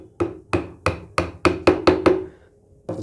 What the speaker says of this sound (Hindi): और ये हमने ठोक दिया।